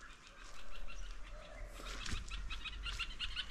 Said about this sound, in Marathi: पाखरे इकडे वर ओरडत आहेत भरपूर